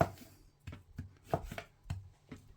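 A knife chops through the tail end of a pork loin on a butcher's block, giving about seven sharp, separate thuds in an uneven rhythm, close up and with no talk.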